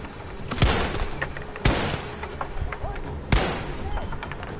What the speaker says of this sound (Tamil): விட்டான்டா ராக்கெட் லஞ்சர்.